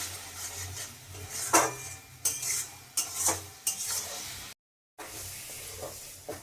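A spatula stirs a spice paste with Kashmiri chili powder in a hot pan for Bengali chital fish muitha, making repeated scraping strokes over a soft sizzle, with a brief pause and no talking.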